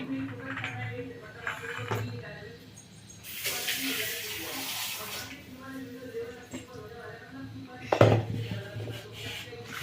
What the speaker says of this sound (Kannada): ನಾನು ಇದಕ್ಕೆ ಇನ್ನೊಂದು ಸ್ವಲ್ಪ ನೀರು ಹಾಕ್ಕೊಳ್ತೀನಿ